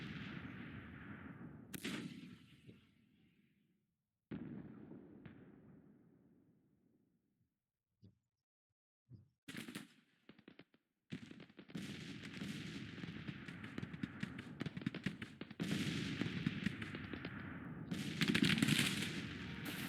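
Civil War artillery and musket fire in the strategy game Grand Tactician: The Civil War, during a battle for New Orleans: scattered heavy booms with quiet gaps, then a dense, continuous crackling barrage of volleys and blasts, loud and without speech.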